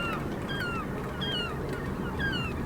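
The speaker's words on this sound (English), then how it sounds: "You can hear the seagulls." Seagulls call repeatedly in descending cries at first light over Harwich Harbour in winter, heard from a fishing boat with a steady low engine and water rumble underneath; several calls arrive in spaced bursts, fairly clear against the drone.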